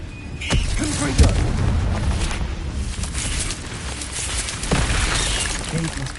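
A Confringo spell blast in Hogwarts Legacy sounds as a couple of sharp booming impacts over a dense, rumbling game soundscape, with voices present throughout.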